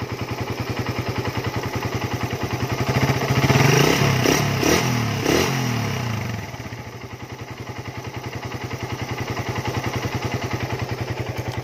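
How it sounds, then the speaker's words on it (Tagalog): A Suzuki Raider 150 motorcycle engine idles up close with a fast, steady ticking rattle like scraping metal or a chain inside the engine, rising briefly in revs before settling back to a clattering idle. "parang may kinakaskas na bakal o parang kadena"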